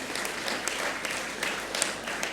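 An audience at an official ceremony honouring the Portuguese president gives sustained applause, a dense, even wash of many hands clapping throughout.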